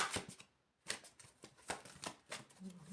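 Oracle cards shuffled and drawn by hand: a quick run of papery riffling bursts, a short silent pause, then several more shuffling flurries up close, with no talking.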